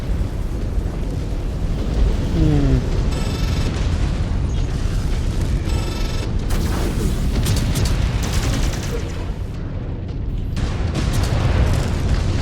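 A mech is destroyed in Mechwarrior 5: Clans, setting off a dense, continuous rumble of loud booms and explosions with crackling bursts and metallic impacts throughout.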